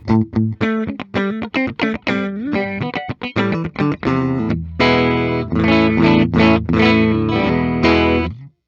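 1993 Gibson Les Paul Custom electric guitar on the middle pickup position with a bright, chimey clean tone, first plucked in quick separate notes, then strummed chords ringing out steadily, close and loud.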